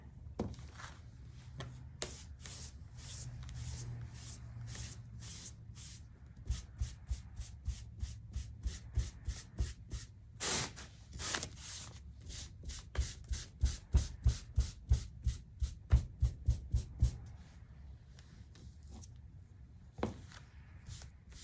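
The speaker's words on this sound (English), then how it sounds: "I'm going to paint the second coat on my mitten" A paintbrush lays a second coat of paint on a mitten ornament, producing soft close brushing strokes that quicken into a rapid series of scratchy rubs, then slow to a few isolated swipes.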